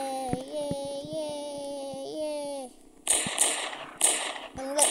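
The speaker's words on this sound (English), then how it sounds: "I'm literally shooting" Bursts of gunfire in a video game, several sharp broadband cracks in quick clusters after an opening stretch of steady tonal game sound with a voice talking over it.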